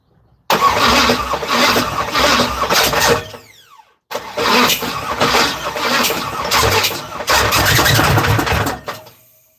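A Chevrolet Camaro engine cranks and catches in two loud attempts, the first cutting out abruptly before a second start that runs rough and uneven before dying, close up with no talking.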